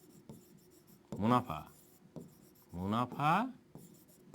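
Writing on a board or paper during a maths lesson on simple and compound interest, a soft continuous scratching and rubbing under a teacher's speech, which comes in two clear bursts.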